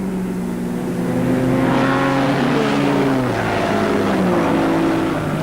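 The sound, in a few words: Honda CBX1000 and Yamaha XS1100 motorcycles racing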